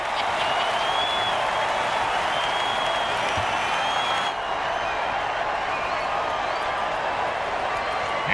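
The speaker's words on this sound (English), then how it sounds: "Ho-ho! Crowd's loving it." Crowd in an American football video game roars steadily throughout, a dense continuous cheer with scattered claps, loud and unbroken, while a commentator's voice talks over it.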